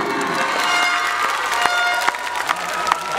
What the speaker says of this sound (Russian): Поаплодируйте ему.